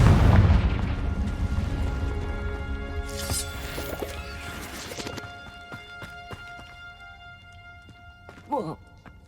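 A Confringo blasting curse explodes in Hogwarts Legacy, a heavy low boom that rumbles and fades away over several seconds, followed by scattered softer game effects.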